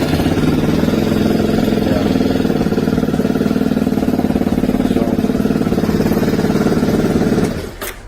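A CSC RX3 motorcycle engine runs steadily at idle, a loud continuous low rumble with fine clatter that cuts out near the end.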